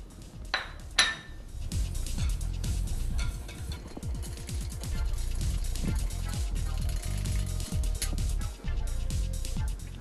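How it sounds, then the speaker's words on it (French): A whisk beats an egg with sugar in a bowl, clicking in quick, steady rapid strokes against the sides for several seconds, close and fairly loud with no talk. "Donc je vais casser un œuf. Que je vais battre avec 25 g de sucre."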